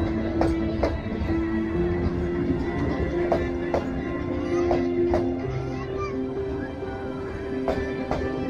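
Metre gauge train in Uttar Pradesh, India, rolling along the track, a steady rumble with regular rhythmic clacks of wheels over rail joints and a sustained tonal hum, heard from on board.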